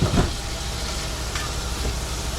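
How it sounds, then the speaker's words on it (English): Dove meat fries in a pan at a hunting camp, a steady, dense sizzle with a few faint scraping touches near the start. "Start flipping it around. Let it cook up good."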